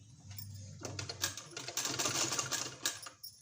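A sewing machine runs steadily along a folded two-inch fabric strip, a quiet, even mechanical rattle of stitching close up, starting after a brief low hum.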